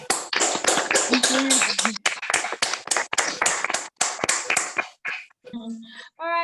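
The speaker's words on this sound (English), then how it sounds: "a round of applause first" An audience at a lecture applauds steadily for about five seconds, then a voice speaks briefly as the clapping dies down.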